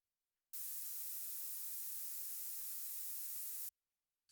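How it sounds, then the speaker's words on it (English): Loud, steady broadband hiss of white noise from a boosted unused mic input on a Boss RC-505MK2 loop station starts abruptly, holds evenly for about three seconds, then cuts off sharply into silence. "this is a tutorial on the MIC1 / MIC2 white noise"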